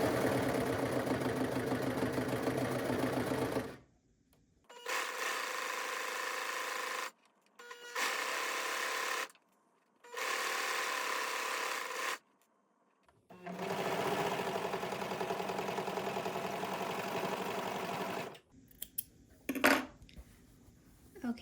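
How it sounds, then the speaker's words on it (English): A serger stitches a fabric lamp shade panel seam in several sustained close bursts of rapid mechanical whirring, separated by short pauses, followed by light handling clicks. "you can go ahead and either serge or zigzag stitch this closed"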